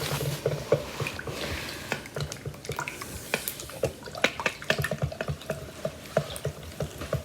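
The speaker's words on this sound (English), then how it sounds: "Gotta mix it really good." Pancake batter being mixed vigorously in a bowl, a quick irregular run of wet slapping and tapping strokes, close and steady throughout with no one talking.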